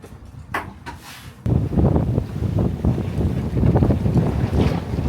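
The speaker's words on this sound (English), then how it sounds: "It's going to be this wind the whole night" Strong northeast wind buffets an exposed sailboat at anchor, with heavy low gusting roar and mic buffeting after a quieter opening of a few brief whooshes, then sustained loud rushing to the end.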